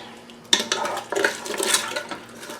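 Clumpy leftover food being stirred in a pot on a stove's sauté setting, with a series of scraping, clattering utensil strokes against the pot, loud and close, and no talk.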